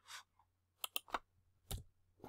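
A handful of soft, close clicks from keys on a computer keyboard, irregular and sparse over a couple of seconds in a quiet room.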